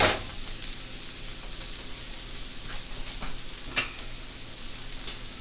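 Shallots for a shellfish bisque sizzle in a pan over lowered heat, a steady soft crackle with a few sharper pops and stirring taps, close by and alone.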